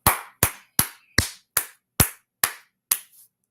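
Hand clapping at a call to clap it up: eight crisp, close claps land at a steady, even pace, each sharp and separate with brief silence between, and no talking.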